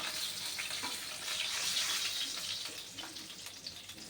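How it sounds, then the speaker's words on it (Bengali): Fish frying in hot oil, a continuous close sizzle and crackle with faint clatter, no voices. "অল্প অল্প করে ভেজে নেব। মাছটা আমার হয়ে এসেছে।"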